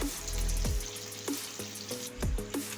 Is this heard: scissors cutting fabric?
no